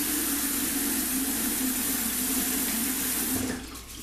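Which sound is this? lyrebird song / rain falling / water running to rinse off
water running to rinse off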